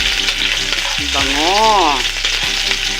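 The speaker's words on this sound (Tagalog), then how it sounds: "nailagay ko na yung bawang mga Jamega. So, i-golden brown natin." Garlic frying in oil until golden brown, for Filipino-style pork rib kaldereta, gives a steady close sizzle, with a few tonal sweeps and clicks over the crackle.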